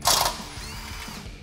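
Power tool with a 10mm socket spinning out bracket bolts on a Jeep Wrangler JK during a lift kit install: a loud short whirring burst at the start, then a quieter mechanical ratcheting rattle that fades out.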